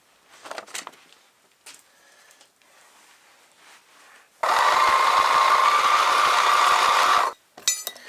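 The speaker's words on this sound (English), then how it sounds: "It's a 6mm hole. Just going to drill that out" A steady, loud mechanical whine with a high grinding tone runs for about three seconds as a 6mm hole is drilled in metal, preceded by quieter clinks and handling noises, then stops abruptly.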